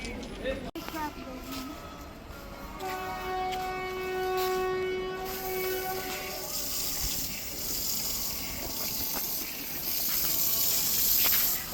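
A train pulls into Baleswar railway station with a sustained horn blast and rolling wagon rumble, set against a crowded platform with people talking.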